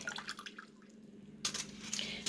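Water trickles and drips into a crockpot in a few short bursts, quiet and close, with a faint steady hum underneath.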